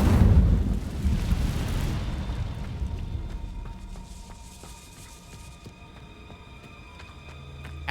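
An Incendio fire spell cast in Hogwarts Legacy erupts in a loud, close burst that rolls off into a fading, crackling rumble over several seconds, with faint game ambience beneath.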